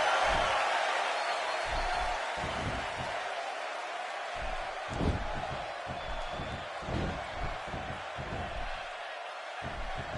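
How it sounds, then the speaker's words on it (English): Arena crowd noise in the SmackDown wrestling game, a steady wash of cheering and roar under intermittent commentary voices, moderately loud and continuous throughout. "Another electric crowd on hand here for SmackDown"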